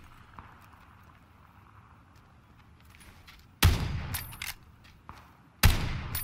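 Two sharp, loud Winchester 94 rifle shots ring out about two seconds apart in the video game PUBG, each with a ringing decay, after a stretch of quiet, low background ambience.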